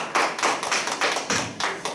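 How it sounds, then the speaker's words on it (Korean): Audience applause at a talk show event, a short burst of close, fairly loud clapping in rhythmic waves, with no voices over it. "박수 부탁드립니다."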